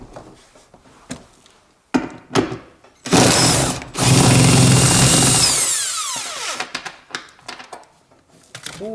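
Power tool unscrewing the front seat bolts of a Toyota Corolla inside the car, with short bursts, then a loud sustained whir of several seconds that winds down, followed by scattered knocks and clicks.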